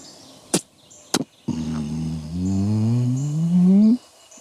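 A man imitates a strutting wild tom turkey with his mouth: two sharp spitting pops followed by a low, rumbling drum that swells and rises for a couple of seconds, close and fairly loud.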